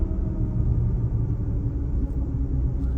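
BMW E46 M3 rear differential on deceleration while driving, a low steady rumble and droning hum under road and cabin noise, continuous throughout with no talking.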